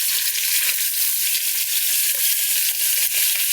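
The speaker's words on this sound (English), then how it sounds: "you better hope you get that sizzle sound as soon as it hits" Boneless short rib meat sizzles loudly in hot oil while searing, a dense, steady crackling hiss with small pops throughout and no voices.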